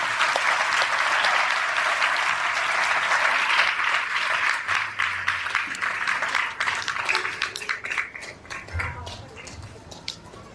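An audience at a religious sermon in Pind Bodla bursts into sustained loud applause that thins into scattered claps and fades out over about ten seconds.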